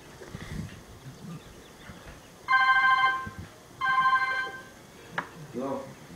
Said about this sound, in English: Oh wait, the phone's ringing.